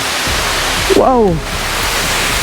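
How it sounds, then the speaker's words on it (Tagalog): A waterfall on a trip from Sibugay to Zamboanga City roars as a steady, broadband rush of water, loud and close, while a man exclaims in surprise over it. "kung naririnig nyo yung tunog ng lumalagaslas na tubig"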